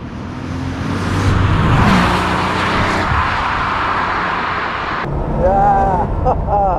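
A 1989 Porsche 911 Turbo Targa with a five-speed manual gearbox drives along, engine droning steadily under wind rush from inside the car, the pitch shifting as it runs, with some tonal whine near the end.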